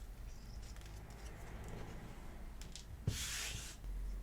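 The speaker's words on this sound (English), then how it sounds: "The top of the hole is then sanded flush." Close, scratchy rubbing of sanding a plastic window part on a diecast Volkswagen T2 model, with a sharp click and a brief louder burst of abrasive scraping near the end.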